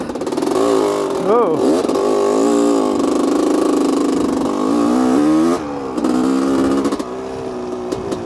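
A 1985 Honda CR250R two-stroke dirt bike revs hard in several rising and falling bursts, close and loud, with a brief pause and crackling blips afterward; a voice exclaims briefly over it.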